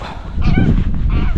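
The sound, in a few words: goose honking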